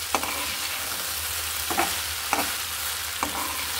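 Vegetable bhaji fries on low heat in a pan with a steady close sizzle, broken by several sharp scraping clicks of a spatula stirring at irregular intervals, with no talking.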